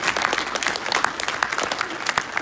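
An audience at a school academic night and spring concert applauds students being recognised, a lively, close patter of many hands clapping at an even level throughout.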